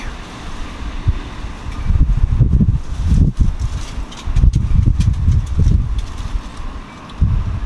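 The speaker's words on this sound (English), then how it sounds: "This wind's going a little crazy." Strong wind buffets a microphone outdoors in loud, uneven gusts, rumbling low and rising and falling in waves with brief lulls between blasts.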